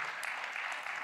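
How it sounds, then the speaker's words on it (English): A film Q&A audience keeps clapping after welcoming the directors; a short, fairly faint burst of dense, continuous applause with no other sound clearly standing out. "Merci pour vos applaudissements."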